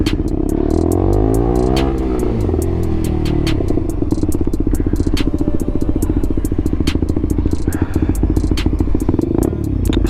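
A 125cc motorcycle pulls away through traffic, engine note rising in a sweeping rev then settling into a steady, close, loud drone with rhythmic clatter, wind buffeting throughout.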